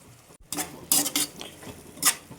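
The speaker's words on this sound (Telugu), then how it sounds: "ఈ టమోటా కూడా బాగా ఫ్రై చేద్దాం చూడండి నేను ఇప్పుడు ఫ్రెండ్స్ ఫ్రెష్ కరివేపాకు రెండు డబ్బులు వేస్తున్నా" Tomato frying in a pan as fresh curry leaves go in for a raw prawn fry, with spatula scrapes and a few bright crackling bursts of spitting oil over a low sizzle, and no voices.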